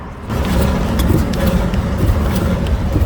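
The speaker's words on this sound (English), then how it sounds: "If you can hear past the traffic noise, wait till the car goes" A car passes by amid steady road traffic, a broad rumbling whoosh that swells in after a brief quieter start and holds steady.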